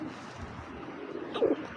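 Giribaz pigeons coo softly at close range, a low murmuring hum building to a brief, louder coo near the end amid quiet background noise.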